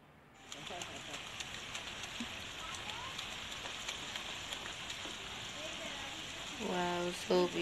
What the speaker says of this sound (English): We have so much fun swimming in the rain.